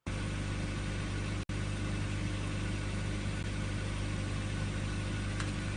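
A car engine sound loop held at 1000 RPM plays as a steady, dense idle-like drone with a strong low hum, continuous apart from one brief dropout near the start, and no talking.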